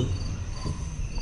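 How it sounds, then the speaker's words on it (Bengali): Crickets chirp in a dense, unbroken chorus near a bamboo grove and dry marsh, steady and fairly loud with no voices over them. "চারিদিকে ঝিঝির ডাক আর তার সাথে পাখি।"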